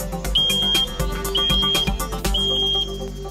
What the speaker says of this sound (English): So when the smoke alarms are actually triggered